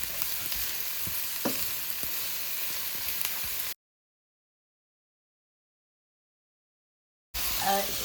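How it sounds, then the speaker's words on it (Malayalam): Sliced onions sizzle and fry in a pan while being stirred for an egg puff filling, a loud, close, steady crackle with scraping stir strokes that cuts off abruptly into silence before briefly resuming. "സവാളയും കൂടി നന്നായിട്ട് വഴറ്റി വന്ന വരെ നന്നായിട്ട് ഇളക്കി കൊടുക്കും"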